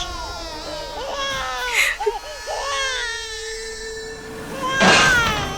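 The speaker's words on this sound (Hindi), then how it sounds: "हमारी बच्ची रो रही है" A baby girl cries in wavering, sobbing wails in a Hindi television drama, with loud bursts around the middle and near the end. Voices talk over parts of the crying.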